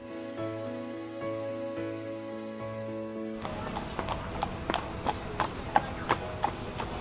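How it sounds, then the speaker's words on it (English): Hooves of a Thoroughbred horse clip-clop in a steady, evenly spaced rhythm, moderately close, after a stretch of background music and under some speech. "He's just a lovely horse."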